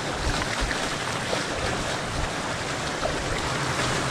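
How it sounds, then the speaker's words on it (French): A small waterfall on a muddy trail near Arromanches produces a continuous, fairly loud broadband rush of splashing water with no voices. "C'est beau cette petite cascade là."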